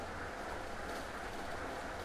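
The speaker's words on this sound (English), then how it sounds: "the train arrived" Train rolling along in the ChronoClock video game, a steady, fairly faint broadband rumble that carries on evenly with no voices over it.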